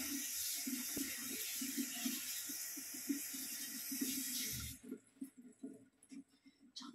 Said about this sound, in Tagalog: Hugasan muna natin syempre.